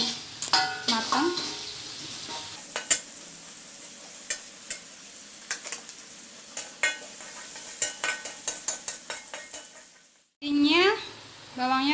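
Shallots sizzling in hot oil in a frying pan while mie nasi goreng is cooked, with scattered clicks and scrapes of a utensil stirring, and a voice speaking briefly near the end.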